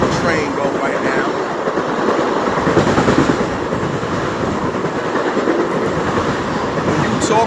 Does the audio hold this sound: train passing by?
yes